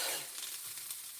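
Fried rice with eggs being stirred on a flat top grill, a brief burst of quiet sizzling with light scraping and no voices.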